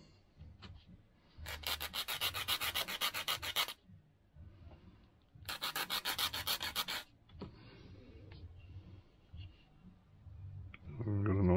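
Sandpaper rubs the ends of small wooden model ship parts for an HMS Victory build, two close bursts of rapid rhythmic scratchy strokes separated by quieter handling clicks and brief speech.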